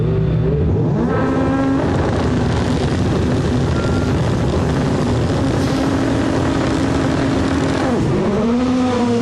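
Rallycross race cars accelerate away from the start in a 2019 qualifying heat at Lohéac. Several loud engines roar together at close range, their pitch climbing and falling as they rev through the gears.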